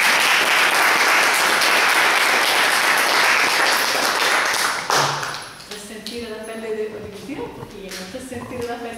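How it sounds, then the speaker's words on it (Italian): Loud, dense applause from a crowd fills the first half, then fades to scattered claps as a voice begins speaking. "Facciamo un applauso a Luana."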